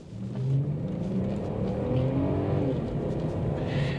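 Volkswagen Touareg V6 engine driving steadily while its four-wheel drive is tested, a continuous low drone heard close throughout with no one talking.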